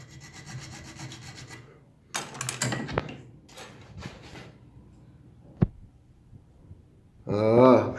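Filing and rubbing on a gun's cocking sear as a new tooth is worked into a welded part during a repair, with bursts of scraping strokes, a sharp click and a rougher rasp at the end.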